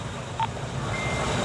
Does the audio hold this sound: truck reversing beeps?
yes